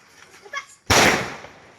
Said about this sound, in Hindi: ये देखंतु हमर बे स्काई शॉट लागि गला